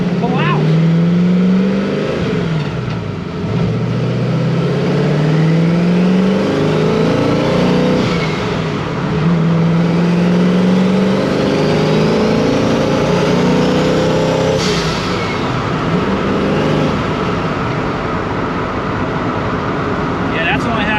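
A carbureted engine revs at half throttle during a carburetor test on a road, a loud, near, droning roar that rises and falls in pitch over repeated swells, with people talking over it.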